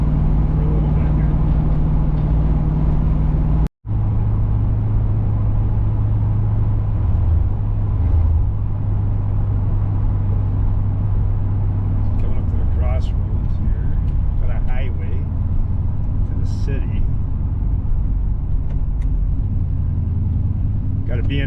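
A 1983 Pontiac Parisienne driving along a straight road, its steady low engine rumble and road noise continuous throughout with one brief dropout, while someone talks over it.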